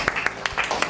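A small group claps in quick, uneven bursts to welcome a person arriving at a casual gathering, with sharp nearby hand claps scattered over a short moment.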